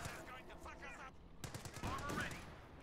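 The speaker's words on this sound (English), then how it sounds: "Enemy spotted. Heavy machine gun team." Heavy machine gun team firing in Company of Heroes 2, sustained rattling bursts mixed with other battlefield noise and in-game voices over nearly three seconds.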